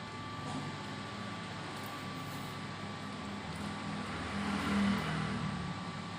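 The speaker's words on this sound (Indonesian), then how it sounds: "kipasnya langsung nyala" A fan on a homemade compressor built from a refrigerator compressor hums steadily with a low, even whir and a faint tonal whine, swelling slightly toward the end, with no talking.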